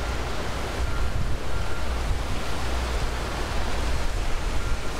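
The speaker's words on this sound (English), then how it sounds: "A little bit of a blustery day now as the cold front passes through." Blustery wind outdoors by library steps as a cold front passes, a steady, loud broadband rush buffeting the microphone throughout, with no voices.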